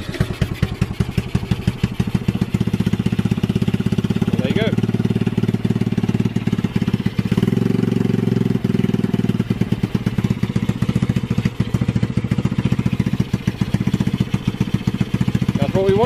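A Honda Ruckus scooter engine, freshly fitted with a carburetor, runs steadily and loudly up close with a fast, even putter throughout, with voices heard over it.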